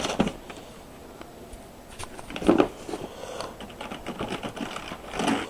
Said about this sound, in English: Smooth typing action, still need to clean it up.